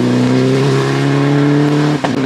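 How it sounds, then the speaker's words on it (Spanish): A Citroën DS3 R3T rally car at a rally sprint accelerates hard close by, its engine a loud, sustained high rev that holds steady before a brief dip near the end. "Siendo quinto César Palacio y su Citroën DS3 R3T"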